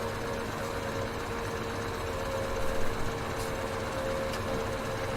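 Tractor engine in Farming Simulator 17 running steadily, a low droning hum with a faint tonal whine held at an even level throughout.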